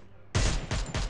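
Rapid bursts of gunfire in a battle royale video game, three loud volleys in quick succession after a brief quiet moment, with no talking over them.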